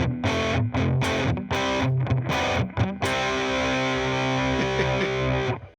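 An electric guitar runs through stacked overdrive, distortion and 7-band EQ boost pedals, playing loud, heavily saturated chopped chords before ringing into a long sustained chord.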